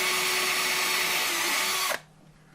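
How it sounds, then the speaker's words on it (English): Power drill boring screw holes in a pine birdhouse: a loud, steady whining motor with grinding bite into the wood, running for about two seconds before abruptly cutting off. "But I'm drilling."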